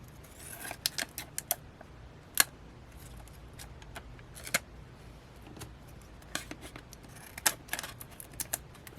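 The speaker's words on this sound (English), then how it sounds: "I got to still cut this edge off here." Scissors cut the edge off a plastic item being made into an acrylic stamp block, giving sparse, faint, sharp snips and clicks at irregular intervals in an otherwise quiet room, with no talking.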